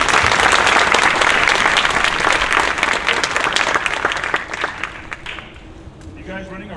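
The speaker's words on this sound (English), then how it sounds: "So for them, let's give them applause." Loud, dense audience applause for parents at the 2023 Golden Fleece event, sustained clapping that gradually thins and fades toward the end.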